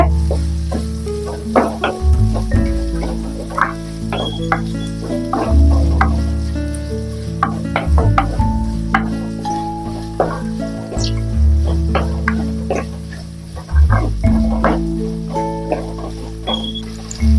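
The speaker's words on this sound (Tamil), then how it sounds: "இப்ப இந்த வெங்காயம் பூண்டு எல்லாம் நல்லா கண்ணாடி பதம் வர்ற வரைக்கும் வதக்கி எடுத்துக்கோங்க" Small onions and garlic sautéing in a pan for a Tamil village-style kulambu, a steady close sizzle and frying crackle running throughout with occasional stirring knocks and no talk.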